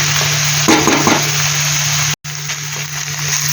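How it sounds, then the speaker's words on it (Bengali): Banana stem frying in a pan gives a loud steady hiss, with a brief burst of stirring scrapes early on and a short dropout partway through. "দেখো থোর ভাজাটা আর একটু শুকনো হবে"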